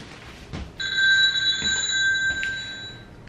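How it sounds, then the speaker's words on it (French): A telephone rings once in a short electronic trill, bright and close, with quiet room noise before and after it. "Sauvé par le téléphone."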